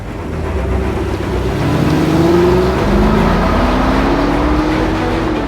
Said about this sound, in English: Today we're showing off the DeLorean.